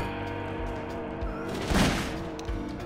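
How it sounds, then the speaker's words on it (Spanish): A gunshot burst in Garry's Mod Prop Hunt cuts in once near the middle, short and moderately loud, over a steady background of game music. "Me está disparando pero no me pasa nada."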